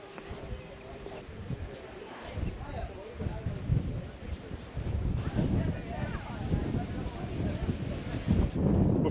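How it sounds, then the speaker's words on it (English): Strong wind buffets the microphone in loud, roaring gusts on an open moor near Corrour Station in the Scottish Highlands, building toward the end. "Oh my, it's so windy. It's proper windy today."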